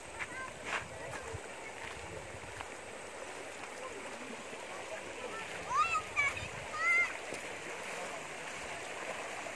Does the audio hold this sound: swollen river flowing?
yes